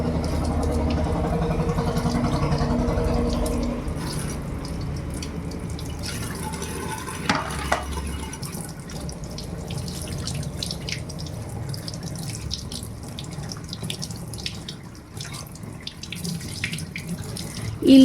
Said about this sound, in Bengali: মাছটাকে জলে ধুয়ে নেব।